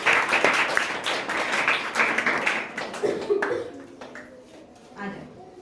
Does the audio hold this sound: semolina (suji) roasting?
no